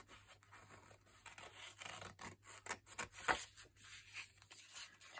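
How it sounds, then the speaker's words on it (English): Scissors snip and slide through paper for mixed media craft work, a quiet run of uneven scratchy cuts and rustles close by. "So I'm just going to cut this out."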